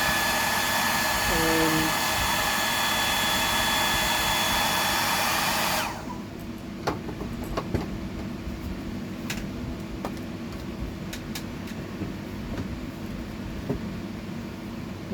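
A hair dryer blows steadily on a handmade fishing lure, a close, loud, even rushing hiss for about six seconds, then switches off, leaving quiet room tone with faint scattered clicks.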